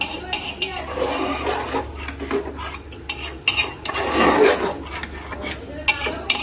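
Chicken being sautéed kosha-style in a pan, a spoon scraping and clattering against the metal in a steady stirring rhythm with a faint sizzle underneath, while people talk over it.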